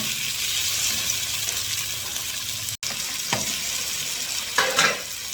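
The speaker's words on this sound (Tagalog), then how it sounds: "Hintayin natin maluto itong kamatis natin." Tomatoes cook in a pan with a steady, moderately loud sizzle, broken by a brief cutout and a couple of scraping stirs near the end.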